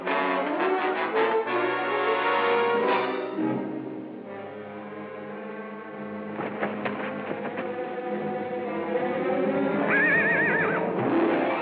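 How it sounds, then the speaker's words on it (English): Horses whinny in a loud, harmonic stretch over a steady low rumble, with a shrill rising neigh near the end; no one speaks. "There are 2 horses at the rack outside."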